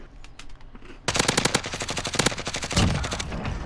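Rapid automatic gunfire from a machine gun in Call of Duty Warzone: a few scattered shots, then a loud sustained burst of evenly spaced rounds lasting over two seconds, with no talking.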